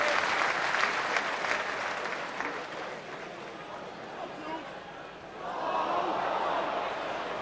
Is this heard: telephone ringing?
no